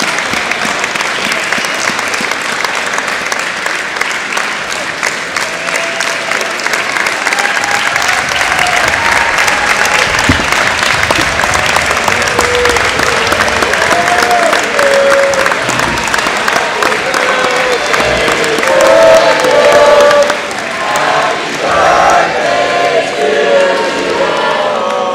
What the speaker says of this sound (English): we want to bring Coach Rowe out here to give him a round of applause